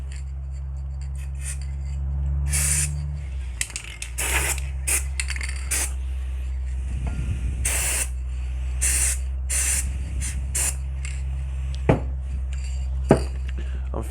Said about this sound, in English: I'm going to lubricate this slider with some of this, which is like WD-40